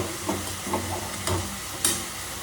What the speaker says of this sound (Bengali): দেখো মাছগুলো সুন্দরভাবে ভাজা হচ্ছে